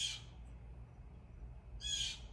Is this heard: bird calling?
yes